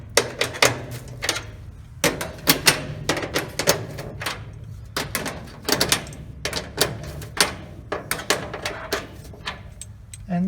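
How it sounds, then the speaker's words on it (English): Bolts being fastened on a new feeder while locking the lower adjuster in position: a rapid series of sharp metallic clicks and taps in irregular bursts, close and fairly loud, with no talk. "fasten the bolts up"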